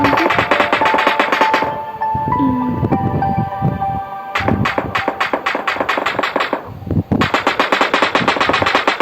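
Rapid-fire weapon shots in the planet-destroying game Solar Smash, dense rattling bursts in loud stretches separated by a short lull with tonal game effects.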